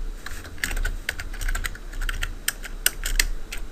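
Steady typing on a computer keyboard, a dense run of quick clicky keystrokes in irregular bursts, close and fairly loud over a low background hum, with no voices.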